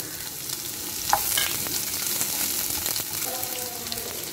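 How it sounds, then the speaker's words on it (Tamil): Sliced onion sautés in a tablespoon of cooking oil with green chillies and curry leaves in a pan, a continuous close sizzle broken by a few sharp clinks and scraping stirs. "இப்போ இது நல்லா வதக்கிக்கலாம்."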